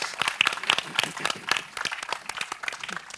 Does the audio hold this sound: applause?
yes